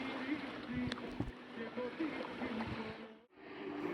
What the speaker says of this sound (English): here's the video of the waves. Enjoy the sound.